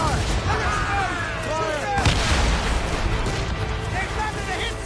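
Naval cannon volleys from a sailing warship in Assassin's Creed Rogue, with booming shots over a dense, noisy battle mix while crew voices shout throughout.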